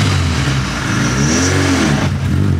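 A car engine revs hard and loud up close, its pitch rising and falling in one sustained, steady roar with no talking over it.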